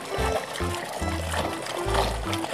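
Water splashes and sloshes in a few irregular bursts while toy vehicles are washed in clean water, close and fairly loud throughout.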